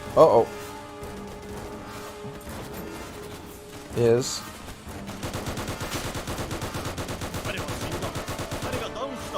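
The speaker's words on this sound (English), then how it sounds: "Oh, they're shooting at me." Gunfire rings out in a WWII sandbox video game: scattered shots at first, then a sustained rapid machine-gun rattle, with a voice talking over the battle.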